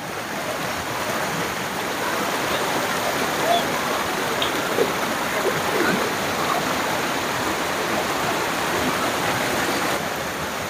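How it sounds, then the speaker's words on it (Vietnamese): A mountain stream rushes near a cave entrance, a loud, steady, close wash of water that holds constant throughout, with faint talk beneath it. "Nghe cái tiếng nước suối quý vị thấy không?"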